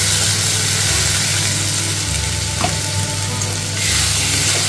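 Tomato paste from two blended tomatoes sizzles loudly in a hot pan for an egg and potato dalna, with a steady close-up frying hiss and occasional stirring scrapes, no voices.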